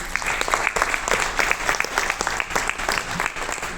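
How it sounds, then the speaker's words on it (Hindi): An audience applauds a guest at an Enagic Kangen Water event with steady, dense clapping that fills the room and continues evenly throughout. "फर्स्ट ऑफ ऑल तालियां होनी चाहिए सर के लिए"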